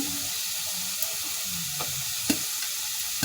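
Cardamom pods and cinnamon sizzle and fry steadily in hot oil in a pan, a close, continuous crackling hiss with a few faint clicks and no talking.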